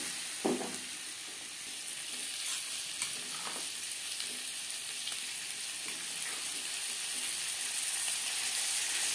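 Potatoes being stirred with salt and turmeric in a hot pan, a constant faint frying sizzle with occasional soft scrapes and knocks of the spoon.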